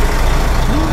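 A truck idles close by on a Brazilian road, a loud, steady low engine rumble with an even rough throb and no talk.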